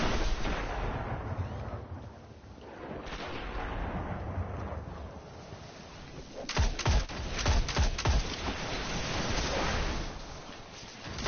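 A grenade explodes during a Destiny Trials match, a cluster of sharp booming bursts midway through a noisy stretch of game ambience and weapon sounds.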